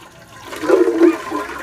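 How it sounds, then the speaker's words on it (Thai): Water is turned on and gushes out in a short, close rush that swells and then eases off, with no talking. "เปิดน้ำสิอีก"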